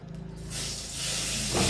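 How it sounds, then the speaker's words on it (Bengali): Potatoes seasoned with salt and turmeric fry in white oil in a wok, a steady loud hiss that swells about halfway through and carries on without pause. "আলুটা ভাজা হচ্ছে"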